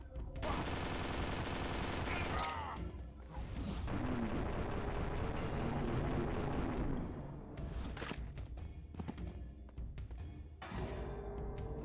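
Light SMG fire in the video game Dead to Rights: Reckoning, long loud rapid bursts with brief gaps between volleys and booming impacts, sustained and close throughout.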